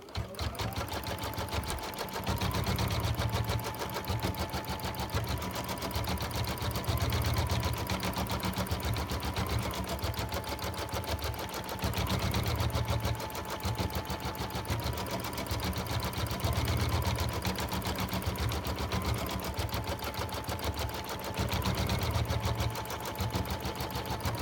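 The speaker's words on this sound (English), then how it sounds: "we can now just hit our green button and it will start stitching out our design" A Brother Dream Machine embroidery machine stitches a letter emblem fill design, its needle hammering in a fast, steady rhythm with the motor hum close and continuous, pausing briefly now and then as it moves between sections.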